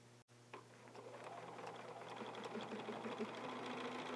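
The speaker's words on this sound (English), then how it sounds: "Now I'm going to stitch from A to B, from A to B." A home sewing machine runs steadily as it stitches a seam, starting after a brief pause and holding an even, fast mechanical whir at close range for several seconds, with no talking.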